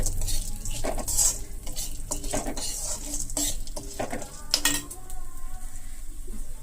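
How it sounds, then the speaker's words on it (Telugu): Peanuts frying in a pan for an old-style chutney, with steady sizzling and frequent scraping and clinks of a metal spatula against the pan, up close and alone. "బాగా ఎర్రగా వేయించుకోవాలి"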